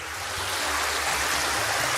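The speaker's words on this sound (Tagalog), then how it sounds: "Kalain nyo merong mini waterfall sa loob ng Cantabon Cave." Constant rushing pour of a small freshwater waterfall inside Cantabon Cave in Siquijor, a close, steady wash of falling water heard alone.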